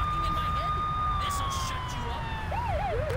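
A police siren wails and warbles toward the end over a steady engine rumble and game background noise in Saints Row 2.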